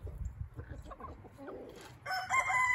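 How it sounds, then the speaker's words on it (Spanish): Chickens cluck and murmur at close range, followed by a rooster's bright, sustained crow near the end. "Ahí están todas las gallinitas."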